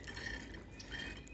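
AdBlue diesel exhaust fluid drains into the tank of a 2016 Range Rover L405 TD6, giving a short, faint gurgling trickle of liquid heard close up.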